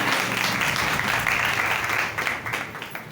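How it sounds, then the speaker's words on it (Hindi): A church congregation bursts into loud, dense applause for the Lord, a sustained wash of many hands clapping that tapers off toward the end. "जोरदार तालियां बजाएं खुदावंद के लिए"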